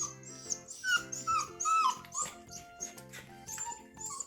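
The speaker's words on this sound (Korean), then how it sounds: "낑낑대지 마" A baby puppy kept in isolation whimpers and whines in a rapid series of high, wavering yelps, close and fairly quiet, with no talking.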